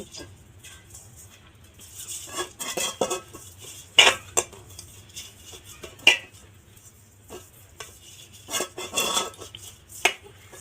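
Ghee is spread inside a cooking pot with a spoon, giving intermittent metal scrapes and clinks against the pot in irregular bursts, close and fairly loud over a quiet background.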